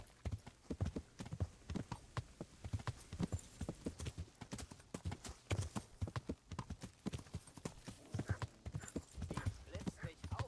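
Horse hooves clip-clopping at a steady, brisk rhythm while riding in the video game Kingdom Come: Deliverance, with talk underneath.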